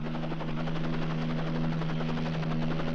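Steady, droning helicopter rotor noise overhead in an Italian crime action movie, continuous and fairly loud throughout with no speech.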